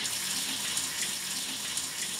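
A prison shower runs with a steady, broad hiss of water spraying and splashing, close and continuous without pause, with no voices over it.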